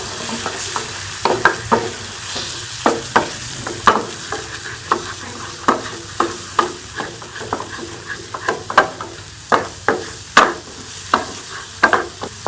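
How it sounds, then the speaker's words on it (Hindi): Egg and tomato omelette mixture is stirred in a hot pan, with repeated sharp scraping clicks of the utensil at an irregular rhythm over a continuous background sizzle, close up and without voices. "अंडा शामिल कर लेंगे और इसको हम मिक्स करके पका देंगे।"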